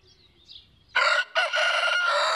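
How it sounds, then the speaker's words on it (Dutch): A recorded rooster crowing, one loud sustained crow with a brief break near the start, played back alone after a quiet lead-in. "we hebben die haan genoeg gehoord nu"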